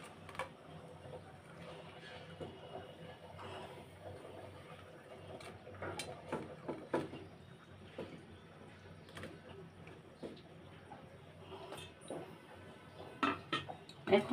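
Fried dried chillies being lifted out of a pan in a home kitchen, with faint scattered clinks and scrapes of a utensil against metal, some sharper taps near the end.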